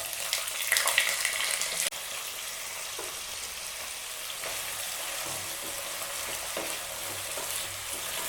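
Sliced potatoes fry in hot oil in a pan, a steady loud sizzle with a burst of crackle as they go in, followed by continuous bubbling and the occasional scrape of stirring.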